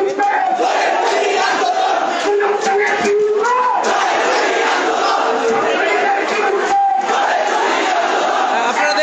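Thousands of students from Dhaka University march in a protest procession toward Madhu's Canteen, a dense crowd chanting and shouting slogans in loud, continuous waves close by, with voices rising and falling throughout.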